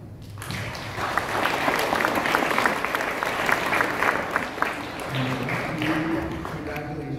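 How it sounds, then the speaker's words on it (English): Grade 5 students and a school audience give parents a sustained round of applause, a dense even wash of many hands clapping that runs steadily throughout with a faint voice or tone near the end. "Grade 5s, give your parents a round of applause."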